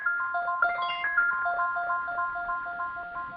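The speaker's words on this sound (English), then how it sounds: "Somebody needs to turn off their phone." A phone ringtone plays during a group conference call, a steady repeating electronic melody that loops for several seconds at moderate volume with no talk over it.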